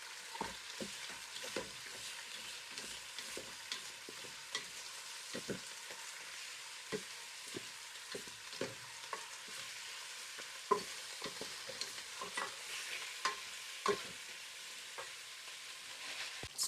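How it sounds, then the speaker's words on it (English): Meat browning in a pot for pilau with peas and carrots makes a faint, steady sizzle broken by many small irregular pops and spoon scrapes, quiet and without talking. "So we want to brown the meat."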